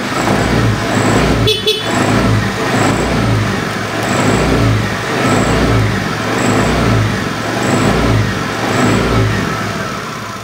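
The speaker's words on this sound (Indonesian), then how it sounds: "mekanik bengkel akan peragakan dulu motor dalam keadaan seperti biasa kita nyalakan" A Honda Beat FI ESP Eco scooter engine starts at a workshop, with a click early on, then runs loud and close with a steady, rhythmically pulsing idle.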